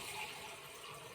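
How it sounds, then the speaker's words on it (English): Water pours steadily into an empty bowl, a continuous, faint, close-up running and splashing sound with no talking. "this one, fill it with water"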